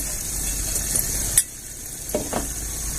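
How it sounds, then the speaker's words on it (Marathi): Masala sautéed in oil in a pan for a black-masala shev bhaji, with a continuous hiss of frying, then a sudden scrape and a brief quiet before further stirring knocks, close by and without speech. "छान परतून घेऊया मसाल्याला छान असं तेल सुटवलं लागलेलं बघा"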